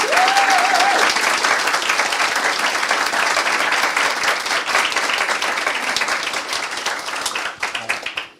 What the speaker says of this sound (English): deserve another round of applause